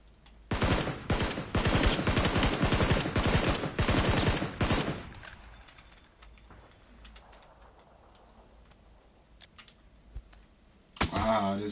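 Rapid bursts of automatic gunfire in the video game PUBG, a dense rattling volley of close, loud shots lasting several seconds before breaking off into scattered faint clicks and a final sharp burst.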